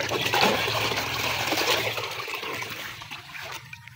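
Water pours steadily into a bucket to dissolve fertilizer for Japanese cucumber plants, a continuous close splashing rush that thins toward the end.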